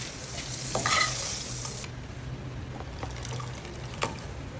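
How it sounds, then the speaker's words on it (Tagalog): Tomatoes sautéing with onion and garlic in a pan, a steady sizzle with stirring clatters and a few louder scrapes, close and without talk. "isinunod ko naman yung kamatis"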